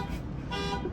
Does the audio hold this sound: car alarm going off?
yes